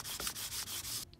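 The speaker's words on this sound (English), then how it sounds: "here I'm running the bevel now with a 600 grit to just clean it up on both sides" A vintage one-inch chisel bevel is rubbed back and forth on 600 grit sandpaper, several quick close scraping strokes in steady rhythm, alone without talk.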